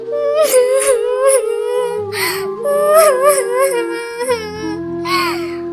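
A cartoon bird named Tuntuni cries in a high, wavering whimper with repeated sobbing rises, fairly loud and close, with other voices or music layered beneath.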